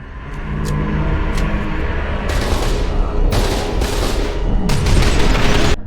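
Gunfire from a boss fight in the video game FEAR 2, with bursts of rapid automatic shots over a steady low rumble of game ambience, loud and continuous throughout.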